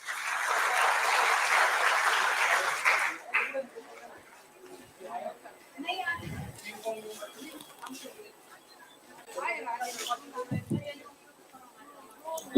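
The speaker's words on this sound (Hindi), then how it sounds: "पहले उस बच्चे के लिए जोरदार तालियां" Loud group clapping from an audience of children for a child who answered a question, lasting about three seconds before fading into scattered rustling and a speaking voice.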